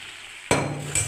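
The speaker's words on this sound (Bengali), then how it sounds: "এবার আমি নাড়তে থাকবো" Bottle gourd is stirred in hot spiced oil masala in a pan, a sudden loud sizzle and scrape that starts halfway through, followed by a second brief clatter near the end.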